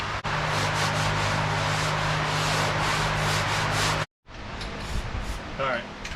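Steady rubbing of sandpaper across the dashboard of a 1980 Dodge D100 truck, close and continuous, then a short pause before softer scraping.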